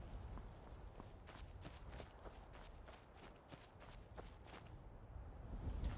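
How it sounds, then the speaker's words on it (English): A steady train of soft, regularly spaced footsteps from a character in modded Skyrim, heard alone over a faint windy background. "Why do I hear footsteps?"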